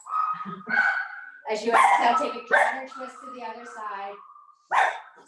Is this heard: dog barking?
yes